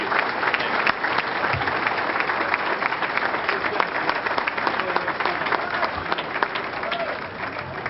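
A crowd applauds continuously, a thick even patter of many hands clapping that holds steady for the whole stretch and eases slightly at the end.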